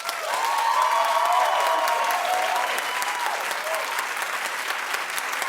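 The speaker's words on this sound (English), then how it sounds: "Clap if you want Sam to win." A television talk show studio audience claps continuously and evenly throughout, a dense, loud wash of applause with faint cheering mixed in.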